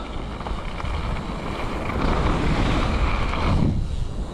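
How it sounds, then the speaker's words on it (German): Strong wind buffets the microphone outdoors at a ski area in Saalbach, a loud, continuous roaring rumble that swells in the middle and drops off near the end, with no voices. "ist das ein Wind gerade"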